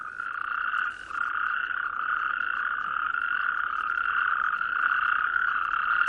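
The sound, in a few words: natterjack toads calling at waterhole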